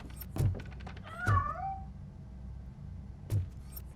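A cat in the video game Robocop: Rogue City gives a few short, rising meows at a moderate distance, spaced out over a quiet background with a couple of soft thumps.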